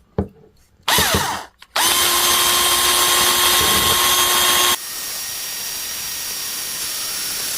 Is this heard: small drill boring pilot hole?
yes